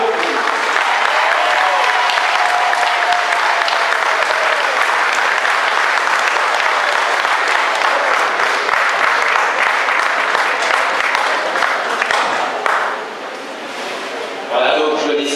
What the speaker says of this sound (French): je laissais à Henri de profiter entièrement de cet applaudissement